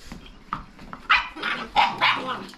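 Dogs bark repeatedly and loudly nearby while horses of the Bhimthadi breed are fed. The sharp barks come in quick bursts, with a person's voice mixed in.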